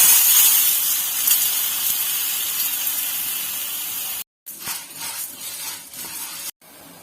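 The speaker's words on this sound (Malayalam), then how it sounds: "ഇനി ആ പാനിലേക്ക് കഴുകി അരിച്ചു വെച്ചിരിക്കുന്ന പയറൊന്ന് വറുത്തെടുക്കാം" Washed green gram dry-roasting in a pan gives a close, steady, bright hiss and rustle of grains over the hot surface. It breaks off briefly twice, then resumes with slightly rougher scraping.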